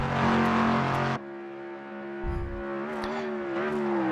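A loud GT3 race car engine drone in a racing video game, with rising and falling pitch, steady and close, shifting gears midway as the revs climb again.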